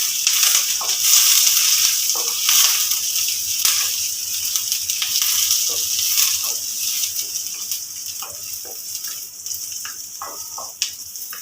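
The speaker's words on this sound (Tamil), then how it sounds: "இந்த நெய்யிலே இதெல்லாம் பொரியட்டும்" Mustard seeds fry in hot ghee in a pan for Indian-style vermicelli, a continuous hiss and crackle with small pops and occasional stirring clinks, close and steady throughout.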